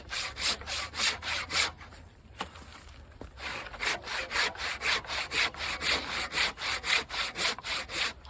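A manual hand saw cuts through wood outdoors in steady rhythmic back-and-forth strokes, a brief pause midway, then the regular rasping resumes, close and continuous.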